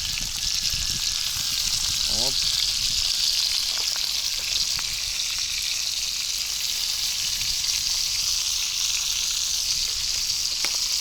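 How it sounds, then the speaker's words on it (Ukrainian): Continuous hissing sizzle of potatoes frying in a pan, steady and close, with faint outdoor ambience beneath, at a fishing spot on the Dnipro River. "картишки смажаться потихеньку"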